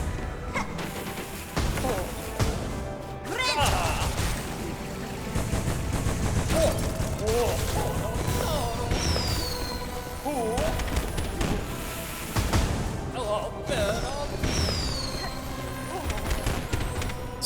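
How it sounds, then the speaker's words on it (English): Fireworks explode in the video game Silksong, a dense, chaotic barrage of repeated bangs, crackles and crashes over game music and effects for a long stretch, loud and nearly continuous. "So many freaking fireworks, man."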